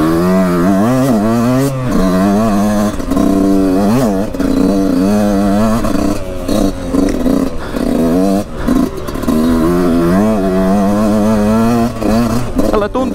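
A Husqvarna CR 125 motocross motorcycle's two-stroke engine revs continuously while riding, rising and falling in loud, close throttle sweeps with brief dips between gear changes.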